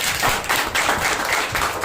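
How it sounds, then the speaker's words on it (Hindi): A church congregation at a Wednesday worship service claps together after a hymn, producing a loud, continuous patter with rhythmic surges. "जोरदार ताली बजाइए"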